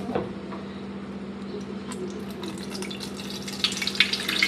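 Water sloshing and splashing as wheat flour for wheat papad is washed by hand in a bowl of water in a home kitchen, a steady low wet churning with brighter splashes toward the end, close and fairly quiet, no talking.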